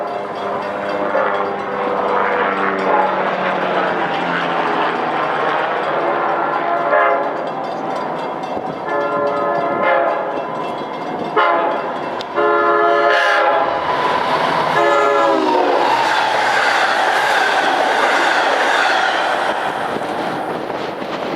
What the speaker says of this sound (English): that was train 668 en route from Hunters Point Avenue to Port Jefferson